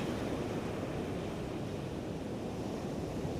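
Strong wind blows steadily outdoors beside the ocean, a loud continuous rushing roar mixed with surf and buffeting against the microphone, with no voices.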